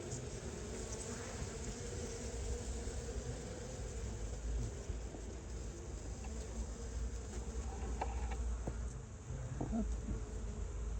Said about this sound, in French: Une belle abeille noire.